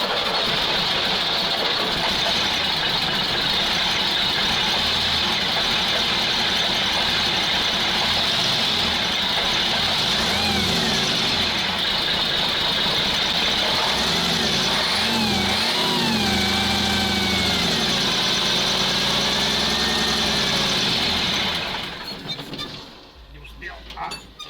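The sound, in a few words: Praga V3S 6x6 truck engine starting and revving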